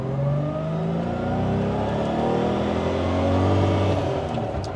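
A Daimler Double Six V12 revs hard, a steady, loud engine roar climbing and holding through the rev range, close to the listener and alone with no talk.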